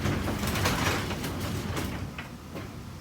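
A newly installed garage door opener raises the garage door under test, giving a steady mechanical rumble and whir with a few rattling knocks as the door travels, with no voices.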